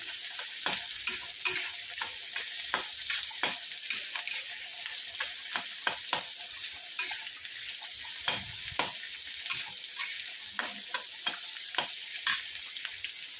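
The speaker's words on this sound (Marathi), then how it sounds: "तर कांदा असा छान असा लाल कलर होईपर्यंत परतून घेऊया।" Onion sautés in a hot pan, sizzling steadily while a utensil stirs it, with frequent short scraping and clinking strokes over the constant fry, close and fairly quiet with no talk.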